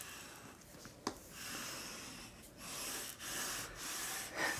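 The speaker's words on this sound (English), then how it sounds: "I'm burnishing this so that it's gonna fit, or it's gonna stick really well to the mat" Paper being burnished onto a crafting mat, heard as soft, close rubbing and scraping strokes in uneven passes, with one sharper tap early on and no speech.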